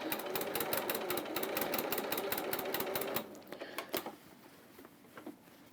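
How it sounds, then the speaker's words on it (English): A sewing machine stitches a curved seam on a pinafore dress, running in a rapid even chatter for about three seconds before slowing to a few separate clicks and stopping. "So because we're sewing on a curve here, it's okay to just take it a little slower"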